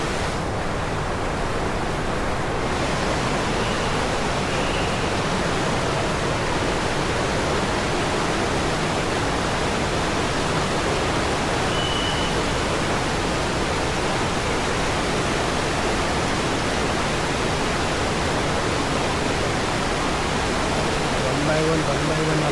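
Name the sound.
Kalu waterfall in Malshej Ghat, Maharashtra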